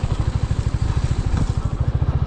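A motorcycle engine chugs in a fast, even pulse as the bike rides along a rough road toward home, the close, steady throb running alone without talk.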